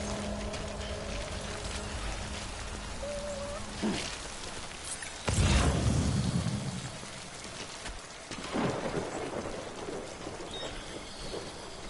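Rain falling in the video game Death Stranding, a steady hiss of rainfall with a loud rumbling thunder burst midway and further swells, no talking.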